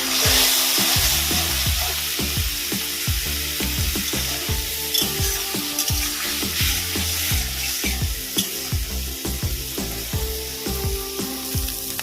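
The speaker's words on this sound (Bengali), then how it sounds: "হলুদ ভালো করে ভেজে নেব" Prawns fry with turmeric in hot oil in a pan, crackling and sizzling steadily while a utensil scrapes and stirs in repeated knocks and strokes, with no talking.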